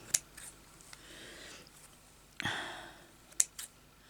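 Scissors cut fabric for a vintage style bag: a few quiet, separate snips and crisp blade clicks spaced over several seconds, close and soft.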